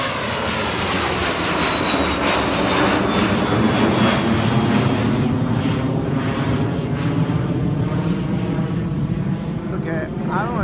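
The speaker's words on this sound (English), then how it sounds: "This is a high-powered private jet." An Embraer Phenom private jet takes off at an airfield, its engine roar loud and sustained, with a rising whine that drifts downward. Someone talks over the noise throughout.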